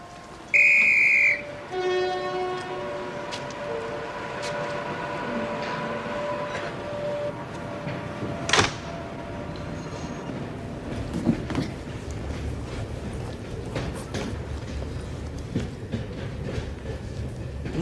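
A train approaches a station platform, heard as a steady rumble and rail noise with a loud whistle-like tone at the start and a sharp squeal midway, continuing to the end.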